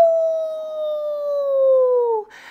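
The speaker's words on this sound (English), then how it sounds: "howled at by the dog" A dog lets out a single long, loud howl that slides slowly downward in pitch over about two seconds before cutting off abruptly, reacting to a falling meteorite.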